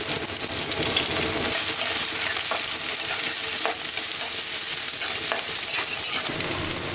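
Onions sizzling in mustard oil in a wok, a steady close hiss with soft scraping stir strokes from a spatula running throughout.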